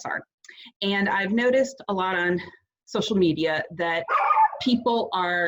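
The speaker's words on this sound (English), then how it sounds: "sorry about my dogs barking" Dogs bark in the background of a home recording while a person talks steadily in the foreground, the barks brief and partly masked by the voice.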